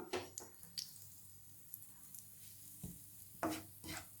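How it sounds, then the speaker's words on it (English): Semolina roasting in a little oil in a pan gives a quiet, soft sizzle, broken by light scraping and stirring clicks from a utensil. "Now add little oil. Roast the semolina."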